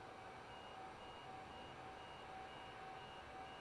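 Overspeed alarm in a Microsoft Flight Simulator cockpit, a steady electronic tone sounding continuously over a constant hum of engine and airflow noise, with no talking.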